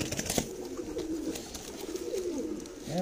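Pigeons coo in a low, throaty rolling rhythm, a few soft calls repeating close by, with faint background voices and a brief rustle.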